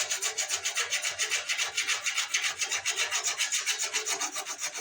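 Cured epoxy being sanded by hand on a guitar body for a 58 Goldtop Explorer replica, a dry, rasping rub in steady rapid back-and-forth strokes, close and continuous with no talk.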